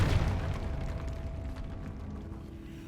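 A Confringo fire spell bursts in Hogwarts Legacy with a loud booming explosion at the start, fading into a long rumbling decay.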